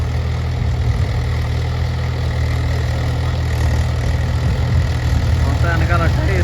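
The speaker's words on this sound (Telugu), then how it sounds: "ఇప్పుడైతే ట్రాక్టర్ రావడంతో కొంచెం అప్డేట్ అయినట్టు స్పీడ్గా అయిపోతుంది అనమాట ఇది చూడండి" A tractor engine works a paddy field during rice transplanting, a loud, steady, close drone that holds without pause, with a voice briefly rising over it near the end.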